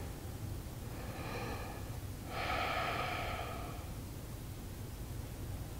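A yoga instructor holds a pose and takes slow audible breaths through the nose, a soft whooshing inhale followed by a longer exhale, close and quiet over faint background hiss.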